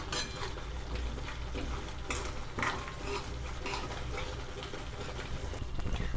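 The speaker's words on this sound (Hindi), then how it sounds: "देखिए, अच्छे से दही पकने लगा है और इसको हम और पकाएंगे" Yogurt chutney simmering in a pan while being stirred, a faint low bubbling sizzle with intermittent scrapes and clinks of a spoon against the pan, quiet and close, no voices.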